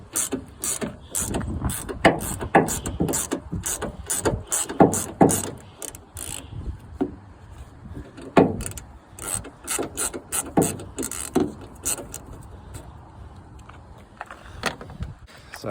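A hand ratchet loosens 10 mm headlight bolts on a car in a series of quick, close clicking bursts, pausing between runs, with no voice over them.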